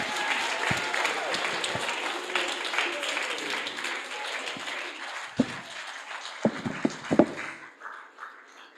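Audience applause fills the hall after a convocation lecture, a dense wash of clapping that thins out toward the end, with a few louder individual claps standing out near the finish.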